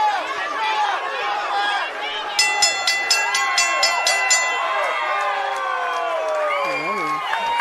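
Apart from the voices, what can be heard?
boxing crowd cheering at the final bell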